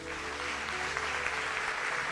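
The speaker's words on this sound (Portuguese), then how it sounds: "Aplauda Jesus." Brief, fairly soft applause from a church congregation during an online worship service, a steady patter of clapping over a low sustained musical tone.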